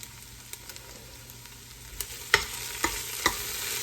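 Ox tails browning in a pot on medium heat with thyme, a soft steady sizzle punctuated by a few sharp scrapes and stirring clacks near the end.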